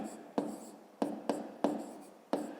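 Maths written on a board in a grade 5 lesson, about six sharp chalk taps and strokes at uneven intervals, close and distinct, with no talk.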